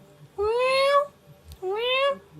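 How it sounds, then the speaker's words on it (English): A hungry cat on a film set gives two drawn-out meows, each rising and falling in pitch, loud and close, with a short pause between them. "Hungry cat on the set."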